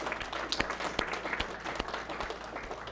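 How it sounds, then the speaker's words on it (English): An audience at a winter fishing competition final gives a round of applause for a golf club, with dense, steady clapping from many hands that stays moderately loud throughout. "let's give them a round of applause because they've been brilliant"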